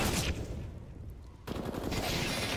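Rapid automatic gunfire from the CS:GO video game during a BLAST Premier match between Astralis and Vitality, dense bursts that briefly drop away and then resume loud and close.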